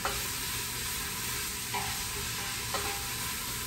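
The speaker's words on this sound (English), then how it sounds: "So now the oil and the heat are going to help release the oils out of those dried spices." Dried spices sizzling in hot oil in a pan, a soft steady fizz with a couple of brief stirring scrapes, quiet and close.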